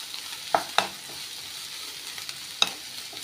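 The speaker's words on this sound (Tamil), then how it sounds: "எண்ணெயிலே இந்த வெஜிடபிள்ஸ்லாம் கொஞ்சம் வதக்கிக்கோங்க." Carrot, cabbage, chili and capsicum sautéing in hot oil for wheat veg noodles, a soft sizzle under a few sharp spatula scrapes and clinks against the pan, close and fairly quiet.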